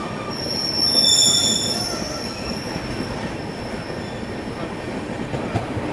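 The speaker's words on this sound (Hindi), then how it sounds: "मालगाड़ी डिपार्चर लेते हुए।" A freight train pulls away on rail lines in India, wheels squealing with high shrill tones over a steady rumble and clatter of cars, close and continuous with no talk.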